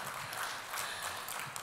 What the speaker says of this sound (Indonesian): boleh kita berikan tepuk tangan untuk seluruh panelis sesi kedua Bapak Ibu